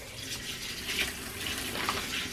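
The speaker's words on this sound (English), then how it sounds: "We're filling the water in for our fishies." Tap water runs into a new home fish tank, a soft continuous hiss and splash with a faint bubbling texture throughout.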